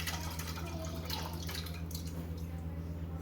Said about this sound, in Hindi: सबसे पहले हम आलू बुखारा जो है उसको लेंगे और सॉस पैन में ये डालेंगे